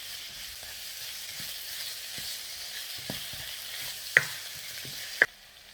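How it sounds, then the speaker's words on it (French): Onion and garlic cloves fry over high heat in a pan, giving a steady close sizzle with soft scraping stirs and two sharp clicks near the end, with no talking. "je mets en même temps l'oignon et les gousses d'ail. On va les faire revenir"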